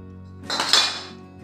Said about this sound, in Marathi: हे सुरीने मी थोडं कापून घेते।